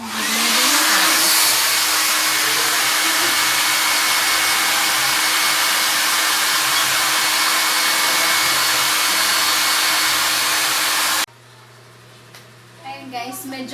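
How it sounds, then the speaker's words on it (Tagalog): A hair dryer blowing on freshly rinsed hair, a steady loud whooshing roar that runs for about eleven seconds, then cuts off abruptly, leaving quiet room sound with faint movement. "Tapos, mag-blower na tayo."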